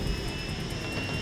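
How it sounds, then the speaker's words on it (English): A lifeguard rescue helicopter lands for lifeguards to board its skids, its engine and rotor giving a short, steady, fairly distant drone with no voices. "The helicopter lands, the lifeguards get onto the side of the skids, and then they take off."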